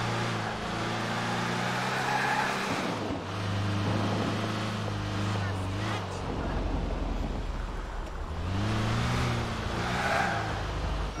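Car engine in Grand Theft Auto 4 driving and revving with rising and falling pitch, loud and continuous, with tyre noise and voices talking over it.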